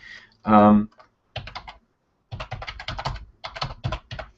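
Computer keyboard being typed on for a web search, short bursts of key clicks in several quick runs after a brief tonal sound at the start, close and fairly quiet.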